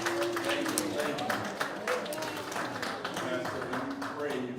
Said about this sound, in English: Y'all give God a hand clap of praise.